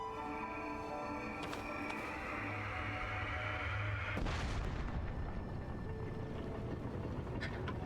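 A cannon fires aboard a ship in a Zelda video game, a deep boom bursting out of a steady low game soundtrack, loud and sudden, followed by rumbling.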